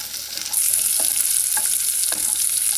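Onion and garlic sauté in a pot as the base for vegetable stock, a close, bright sizzle that jumps up suddenly and continues, broken by a few soft stirring scrapes.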